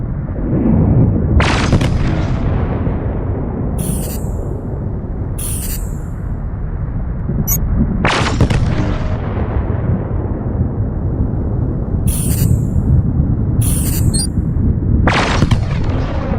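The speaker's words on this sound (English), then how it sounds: "Now let's try laser weapons." Laser weapons fire from a spaceship in SpaceBourne, sharp bright zaps in bursts of one or two shots spread across a loud, constant low engine rumble, close and heavy, no talking.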